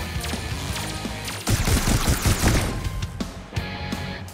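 Rapid bursts of automatic gunfire from the VR shooter Swarm 2 on Quest 3, loud and dense in clustered volleys with sharp single shots toward the end.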